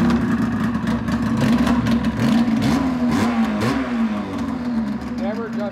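A Polaris Edge X 600 snowmobile engine runs steadily and revs up and down, with a loud, continuous drone and several rising throttle sweeps, while people talk over it.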